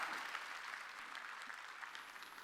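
A church congregation applauds steadily, dense clapping filling the room at a moderate distance and fading slightly toward the end.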